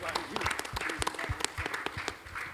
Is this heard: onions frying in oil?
no